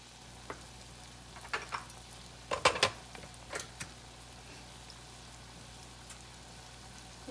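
Onion softening in a pan on the stove, a low steady sizzle with a few sharper clacks of stirring utensil against the pan, faint and close, without talk.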